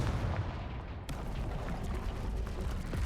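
The Confringo fire spell from the Hogwarts Legacy video game bursts with a booming rumble and a sharp crack, followed by a lingering low roar from the game.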